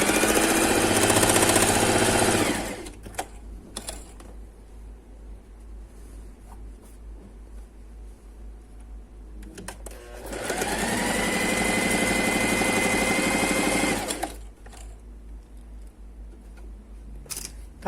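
An electric sewing machine runs its needle at stitch setting 1 through a fabric mask in two steady whirring bursts, one short at the start and a longer one later, with quiet handling between them.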